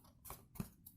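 Two or three crisp snips of scissors cutting a paper disc, close up and fairly quiet, with short pauses between cuts.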